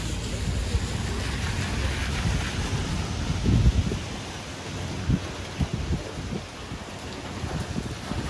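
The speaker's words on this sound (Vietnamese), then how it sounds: "Mưa không to lắm, gió nhẹ." Light rain and mild wind sweep a town intersection in Taiwan during Typhoon Kong-Rey, a steady broadband hiss with gusty rumble and a few louder bursts from wind buffeting the microphone.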